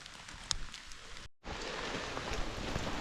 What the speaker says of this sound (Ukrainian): А дощик посилюється.